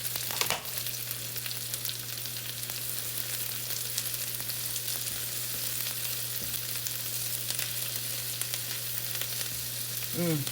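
Chopped onions frying in a pan while being stirred, a steady dense sizzle throughout with a low constant hum underneath, occasional scraping clicks of the utensil, and a brief clatter near the end.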